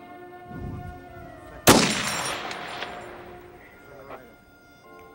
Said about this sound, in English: It gave Guy an opportunity at about a 300-yard shot right here.